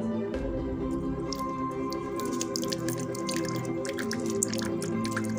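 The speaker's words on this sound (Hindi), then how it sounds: "इसमें मैं थोड़ा सा पानी डाल देता हूँ, ये थोड़ा साफ पानी है।" Clean water poured into a homemade gold test solution, heard as a steady stream of close, wet dripping and trickling with no talk.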